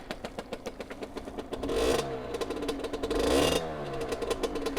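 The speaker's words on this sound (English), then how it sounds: "I love the little sound of the high-pitched rev." An Aprilia RS50 two-stroke sportsbike engine idles with a rapid buzzy pulse, then twice revs to a high-pitched whining peak and drops back, heard close and fairly quiet.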